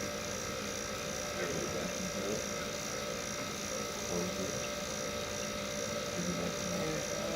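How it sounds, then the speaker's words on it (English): Refrigerant pressure escaping through slowly cracked suction and liquid valves during recovery, a steady loud hiss that holds evenly throughout with faint voices underneath. "We're gonna slowly crack our suction and liquid just slowly to let that pressure kind of alleviate out so we don't choke oil."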